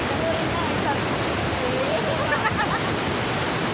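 Aliwagwag Falls in Cateel, Davao Oriental, cascading as a steady, dense roar of rushing water that fills the whole clip at close range, with faint voices and whistle-like tones barely audible underneath.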